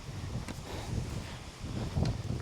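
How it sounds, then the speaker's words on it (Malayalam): Strong wind on the Agasthyarkoodam trek in Kerala buffets the microphone as a steady, fairly quiet low rumble with soft gusty swells and no one speaking. "ആ കിടിലൻ കാറ്റ് ഗൈസ്."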